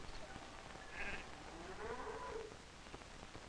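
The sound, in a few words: sheep bleating on a Norwegian farm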